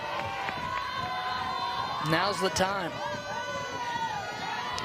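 A women's college softball crowd, Florida State against Oklahoma State, cheers and shouts at a game with runners in scoring position. The noise swells in a brief burst mid-clip over a steady stadium murmur, with a voice speaking over it.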